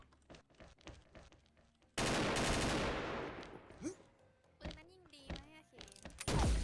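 AK rifle fire in the shooter game XSHOT rips out as a sudden loud automatic burst that decays over about a second, with scattered game sounds and voices talking before and after.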